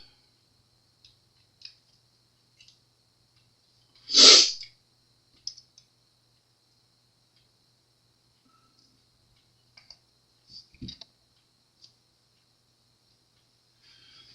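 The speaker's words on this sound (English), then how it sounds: "Sneeze." A single sharp hay-fever sneeze, near and sudden, in an otherwise quiet space with a faint high-pitched hum and a few small clicks.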